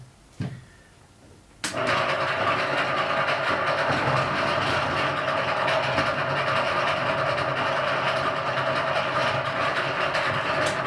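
A Wessex rock tumbler clicks, then its motor starts and runs as a loud, close, steady rumbling drone that holds unchanged to the end.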